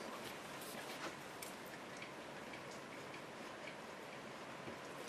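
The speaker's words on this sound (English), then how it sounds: "that's the rain absolutely hammering down outside" Heavy rain hammers down outdoors in Irish weather, a steady, dense hiss of drops with faint tick-like patters running evenly through the whole stretch at a constant, fairly loud level.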